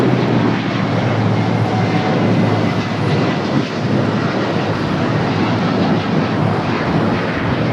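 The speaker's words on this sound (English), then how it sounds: "the 777, now short final" A Boeing 777 airliner on short final at LAX roars low and steady, a broad, loud engine rumble and hiss that holds continuously without breaks.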